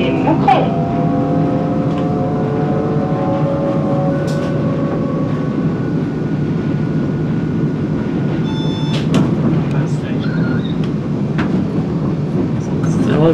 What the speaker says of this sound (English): Well, we're going on this train